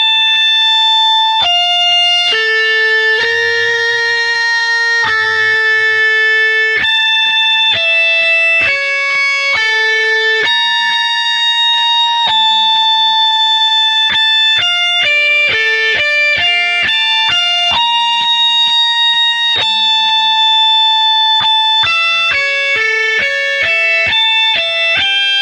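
Electric guitar with an effects unit pitched two octaves up plays a song intro, a bright, high, distorted run of sustained and quickly shifting notes that fills the whole stretch loudly and alone.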